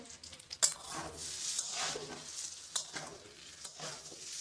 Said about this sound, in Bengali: ফুলকপি আর হচ্ছে তোমার কুমড়ো এই তিনটে জিনিস ভাজা বসিয়েছি আর তার সাথে দিয়েছি কাঁচা লঙ্কা